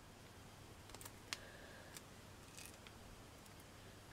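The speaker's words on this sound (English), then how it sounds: "So what I'm going to do is to snip these. Get my pliers." Pliers snip wire for a vintage Victorian taffeta flower in a couple of faint, quick clicks against a quiet room hum.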